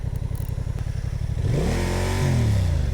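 A vehicle engine with a fried clutch idling with a steady low throb, then revving up in a rising, then falling drone that holds a strained, higher pitch near the end, close and loud.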